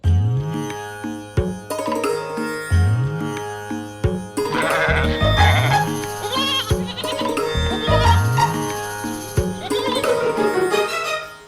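Goats bleat in short, wavering calls, several times in a row, mixed into a loud, swelling music score with no talking.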